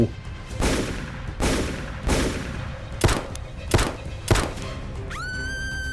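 Gunfire effects for a Thai audio novel's battle scene with jungle ghosts: a series of booming shots, roughly seven, spaced about half a second to a second apart, ending with a rising whining tone.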